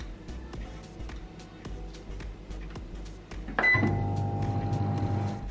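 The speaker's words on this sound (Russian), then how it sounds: "Пока работает микроволновка" A microwave oven is set to maximum power for five minutes: the door clicks shut, buttons are tapped in quick succession, then the oven starts with a loud, steady hum right up close.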